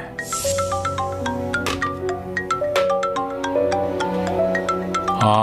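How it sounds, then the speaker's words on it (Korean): A phone ringtone plays a bright, repeating electronic melody of quick notes, loud and close, carrying on steadily for several seconds with no voices over it. "성우 씨 전화네요."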